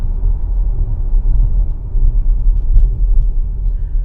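A 2022 Audi SQ5 Prestige engine and exhaust giving a steady, loud, low rumble while driving, smooth and even with no voices.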